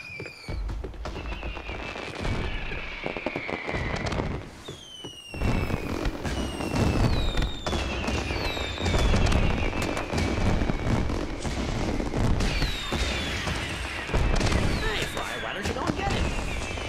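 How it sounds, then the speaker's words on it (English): Dense fireworks display in a PS5 video game remake ending, with continuous crackling bursts and whistling rising streaks layered over a loud booming bed, under ongoing speech. "No way I'm supposed to watch this whole fucking fireworks show for 1 fucking hour."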